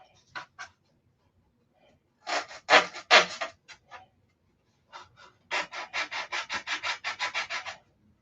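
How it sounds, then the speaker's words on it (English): Rhythmic scraping strokes of sandpaper on hard wood by hand, short bursts at first, then a steady run of quick back-and-forth strokes, close and clear. "Just a little sanding."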